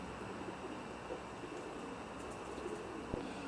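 Soft, low coos of racing pigeons in a loft murmur continuously against a steady background hum, several birds close by.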